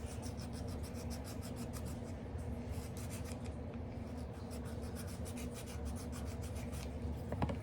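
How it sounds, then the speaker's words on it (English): A deburring tool and file work down cured UV resin, a steady close scraping and rasping that runs continuously with no talk over it. "So I'm just gonna take the deburring tool and the file and get it worked down."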